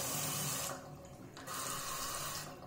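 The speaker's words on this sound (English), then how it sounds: "I'm just going to open the tap" Water runs from a water-saving tap into a sink, a close steady hiss that briefly drops away and then resumes, with no talking.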